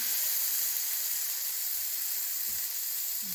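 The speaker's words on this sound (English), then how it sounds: "Hear that sizzle? Beautiful sizzle." Steady, bright sizzling of shrimp frying in a hot pan for a stir fry, a continuous hiss close by with no talking.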